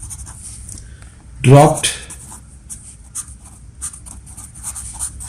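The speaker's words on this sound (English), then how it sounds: "Now let me write the question down." A pen writing out a math question makes faint, scratchy strokes that continue throughout, briefly interrupted by a short spoken word.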